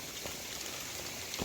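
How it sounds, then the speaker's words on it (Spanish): Hail falling heavily outdoors at El Raso in Candela, Ávila, the stones like rocks: a dense, continuous hiss of hits, with a few sharper impacts near the end and no talk. "Mirad qué granizos están cayendo"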